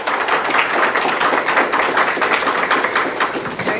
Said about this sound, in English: please give the host another round of applause